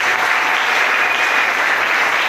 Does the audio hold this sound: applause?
yes